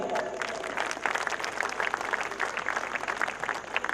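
Audience applause at a Hindi poetry gathering, a dense, continuous patter of many hands clapping at moderate volume throughout.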